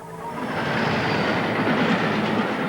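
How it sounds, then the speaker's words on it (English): A train runs along rails toward a derailed yellow radioactive-material test flask at 100 miles an hour, a loud, steady rumbling roar that swells slightly and holds for a few seconds. "they derailed a yellow test flask and drove a train into it at 100 miles an hour"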